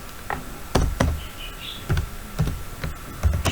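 Short bursts of keystrokes on a computer keyboard as a router command is entered in a Cisco Packet Tracer lab, irregular clicks and taps scattered over a few seconds, close and fairly crisp.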